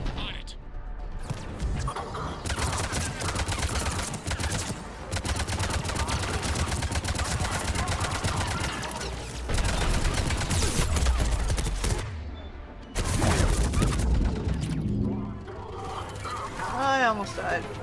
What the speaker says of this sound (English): The cannon fire is clearing the way